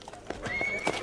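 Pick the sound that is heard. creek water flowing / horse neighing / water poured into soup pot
horse neighing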